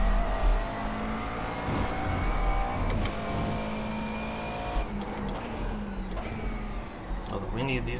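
A McLaren GT3 race car engine drones steadily at Brands Hatch in the iRacing simulator, loud and continuous with shifting pitch and brief sharp transients, while someone talks over it.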